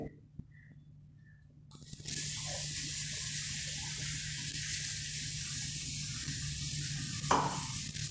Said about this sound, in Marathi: टॅमॅटो कांदा बारीक केलेला टाकून घ्यायचा कढईमध्ये